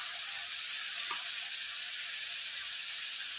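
Masala paste and spices frying in oil for a spicy black pea curry, a steady close hiss of sizzling with one faint stir near the middle, no voices.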